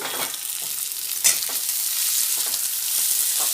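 Soaked, drained Gobindobhog rice is stirred in a hot pan with a steady sizzle, a spoon scraping and rustling now and then, and one sharper clink near the middle, with no voices.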